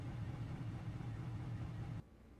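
Ligier prototype race car engine in the iRacing sim drones steadily at a loud, even pitch, then drops sharply in level near the end as the volume is turned down.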